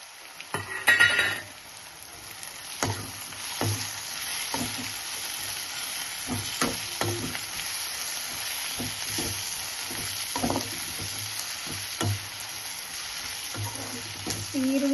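Onions frying in oil in a pan with turmeric for chitranna, a steady soft sizzle broken by repeated scraping stirs of a spoon, close and alone without talk.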